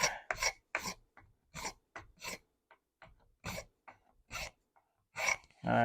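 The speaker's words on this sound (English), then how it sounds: "So just going to go through and lightly scrape." Hand scraping along the spout of a horn powder horn: a series of short, close rasping strokes in an irregular rhythm, separated by quiet gaps, with no talking.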